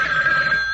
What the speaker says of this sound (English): Fairy phone.